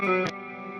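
A large-space reverb set to a low mix on a heavy metal guitar mix, sustained distorted chords ringing out with a burst of noisy attack early on, then a steady wash fading slightly toward the end.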